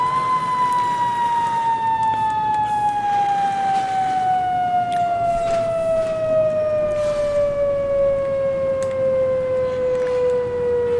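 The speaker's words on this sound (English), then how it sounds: "we can use the manual siren, which will wind up as we hold the button and wind down as we let go" A video game emergency vehicle's manual siren wails continuously, its pitch slowly winding down across the whole stretch, loud and close over a low engine hum, in traffic.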